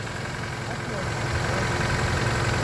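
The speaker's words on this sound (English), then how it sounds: "with the motor running" A 2009 Nissan Versa car engine idles steadily with a smooth, continuous mid-pitched hum, close by and unchanging.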